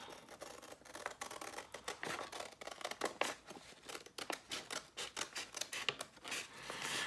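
Scissors snip away excess paper while a journal craft page is trimmed: a quick, close run of crisp repeated cuts and rustles, steady and alone without speech.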